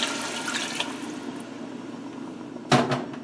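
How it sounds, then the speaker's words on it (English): Water is poured into a pot of traditional chicken stew, a steady close splashing rush with a sharper clatter near the end. "we're going to add some more of the water. Altogether I got about 4 cups of water here"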